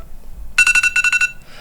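An iPhone alarm ringtone plays as a preview, a bright electronic chime sounding in two quick bursts of rapid repeated beeps after a brief pause, clear and alone.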